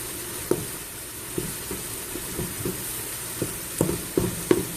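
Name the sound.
sausage browning and sizzling in a pan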